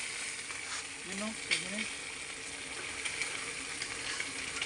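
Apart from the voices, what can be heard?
pork fat frying into chicharon in a pan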